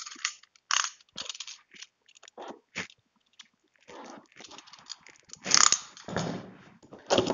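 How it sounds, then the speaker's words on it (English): Cardboard and plastic packaging from a Viewsonic VX2276-SHD 22-inch monitor crinkle, rustle and crunch in quick irregular bursts, close up and fairly quiet, with no talking. "So now I'm going to unbox the product."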